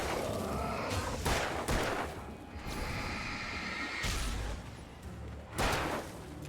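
Flare gun firing in the video game Alan Wake Remastered: several loud, sharp blasts with whooshing tails, spaced a second or two apart, with continuous game noise between them.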